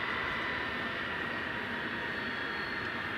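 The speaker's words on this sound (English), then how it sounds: "What you hear in the background for takeoff, 18 left, RNAV 50 park, frontier flight. Is the sound of a 757." A Frontier Boeing 757 jet taking off from runway 18 left at DFW Airport at night, heard as a steady, loud engine roar with a constant high whine, unbroken throughout and at a moderate distance.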